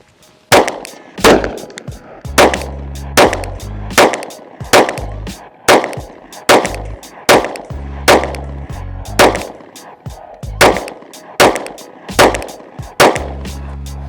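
Handgun fitted with an Antimatter Industries wing fires about a dozen sharp, loud shots at a steady, fairly quick pace, each crack followed by a brief ringing decay, with no talking.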